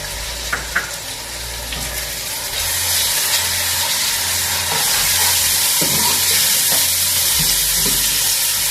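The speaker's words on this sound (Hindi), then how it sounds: "अब हम इनमें अदरक लहसुन का पेस्ट ऐड कर देंगे" Ginger garlic paste dropped into golden fried onions sets off a loud, hissing sizzle that swells after a couple of seconds and stays intense, with faint stirring clinks underneath and no talking.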